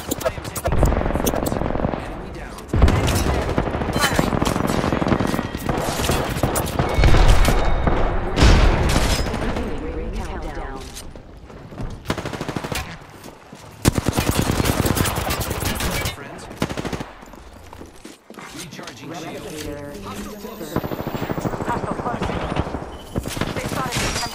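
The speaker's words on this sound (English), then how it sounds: "I am taking fire." Heavy gunfire fills a round of Apex Legends: rapid automatic bursts and sharp single shots come in loud, dense volleys with short pauses, and in-game voice callouts are heard between them.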